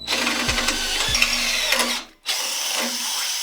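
A large power drill bores out bigger holes in an electric bike subframe, giving a steady, loud whirring whine that stops briefly and then resumes.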